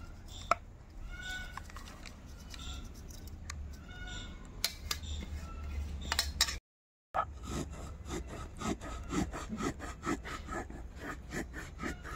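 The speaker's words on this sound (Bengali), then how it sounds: "তারপরে এখন শিলনোড়াতে বেটে নিচ্ছি" Soaked, sun-dried rice is ground by hand on a shil-nora grinding stone, giving faint, rhythmic scraping and rubbing strokes of stone on stone with a brief break partway through.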